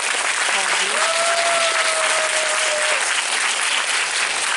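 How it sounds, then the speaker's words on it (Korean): Audience applause welcoming the director and actors of a film onto the stage at a Busan International Film Festival Q&A screening, steady dense clapping throughout with a faint tonal whistle or voice line briefly above it. "큰 박수 부탁드립니다."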